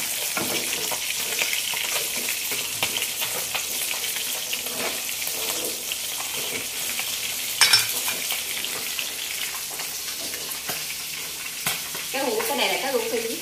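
Tilapia and gourami fish frying golden in a pan make a strong, continuous sizzle with crackling spits and occasional clatter. A brief clink comes midway, and a faint voice is heard near the end.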